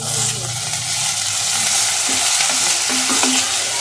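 Noodles and vegetables stir-fried in a pan for a home-made spicy Korean-style ramen, with a steady close broadband sizzle and occasional scraping, tossing clinks throughout.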